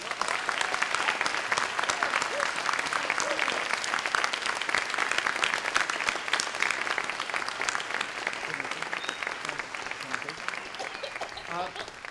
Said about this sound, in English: If we could have one more round of applause for our panelists.